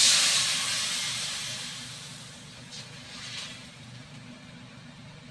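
Water hits a hot pan while cooking pancit, bursting into a loud steaming hiss that fades gradually over several seconds, ending with a small clunk.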